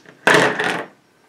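Dice rolled for the Age of War board game, a single short clattering burst near the microphone lasting about half a second, then quiet, with no one speaking.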